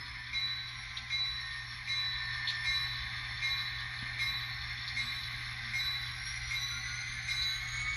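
An N scale model train locomotive backs up on a layout to shunt cabooses, giving a steady mechanical whir and hum with faint clicks, continuous and fairly even throughout.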